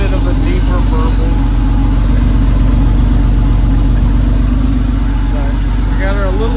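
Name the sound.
1992 Porsche 964 Carrera RS engine burble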